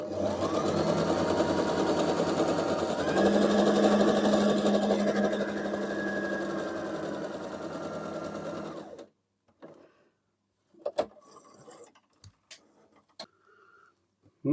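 A domestic sewing machine stitches a fabric sample with red bobbin thread, a steady close mechanical whirr for about nine seconds, then stops, leaving silence with a few scattered clicks and taps.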